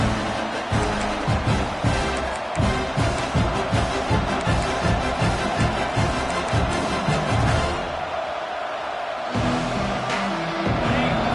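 Packed stadium crowd at a college football game, roaring loudly and continuously with rhythmic thumping pulses running underneath, briefly easing for a moment before swelling back to a full din.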